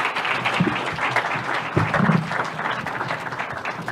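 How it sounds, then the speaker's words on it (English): Applause from the audience at an investors' partnership forum, dense loud clapping from a large crowd in a hall, filling a few seconds on its own. "Kindly let us give him a round of applause."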